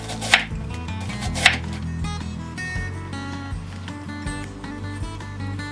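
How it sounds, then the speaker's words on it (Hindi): A knife slices an onion on a cutting board, with a few sharp chops followed by softer repeated cuts close by and no voices. "प्याज को भी हम इसी तरह स्लाइस में कट करेंगे"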